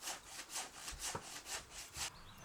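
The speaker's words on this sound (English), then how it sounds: "Sawing is hardly much better." A hand saw cuts through larch decking boards on a jetty in steady back-and-forth strokes, about eight rhythmic rasping passes. The sound is close and moderately quiet, with no voices.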